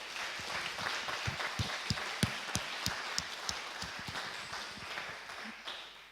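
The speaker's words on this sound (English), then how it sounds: "Could you show them with a round of applause?" An audience at a conference applauds the doctors with a modest round of clapping, individual sharp claps standing out against a soft background of hands.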